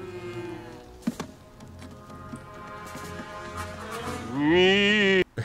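A cow moos in the 1984 comedy film Top Secret!, a long, loud, drawn-out moo near the end following quieter film sounds and light thumps.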